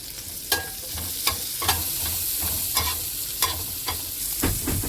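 Curry leaves sizzle steadily in oil in a pan while kothu parotta is cooked, broken by sharp scraping and stirring clicks at irregular intervals.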